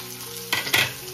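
Capsicum, onion and curry leaves hit hot oil, giving a short burst of sizzling and spattering with a couple of louder crackling surges over a steady low hiss.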